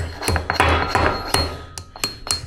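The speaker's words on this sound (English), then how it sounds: "We'll take a hammer," A hammer strikes metal sharply, knocking a shear part into place, with about nine close, ringing taps at an uneven rhythm and no talk.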